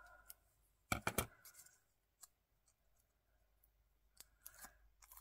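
Scissors trimming the edges of paper for a handmade scrapbooking pouch, quiet snips that come in a quick cluster of sharp cuts, then scattered softer clicks and a few more snips near the end.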